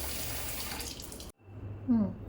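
Water pouring and splashing from a tap into a vessel while spiny gourds are washed with turmeric and salt, a short close trickle with a brief break midway.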